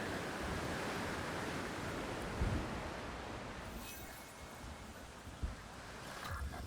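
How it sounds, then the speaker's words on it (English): Bad storm in the video game Jurassic World Evolution 3: a steady roar of rushing wind and rain like surf, with a couple of brief thumps, continuous throughout. "Oh, are we, we're in a bad storm,"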